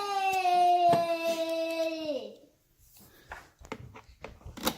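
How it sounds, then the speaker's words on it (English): A child's drawn-out wailing cry rings out, then fades into scattered faint clattering and rustling nearby. "Sorry about the noise of the kids in the background."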